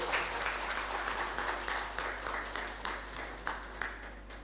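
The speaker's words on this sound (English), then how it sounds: "A round of applause as he comes forward" An audience at a ceremony applauds as the keynote speaker comes forward, a dense, steady wash of many hands clapping that holds at an even level and tapers only slightly near the end.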